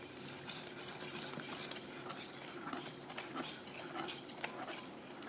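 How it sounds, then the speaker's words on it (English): Butter and milk are stirred together in a bowl for gluten-free pancake batter, giving a soft, continuous scraping and clinking of a utensil, close and steady with no talking. "mix the butter and the milk together"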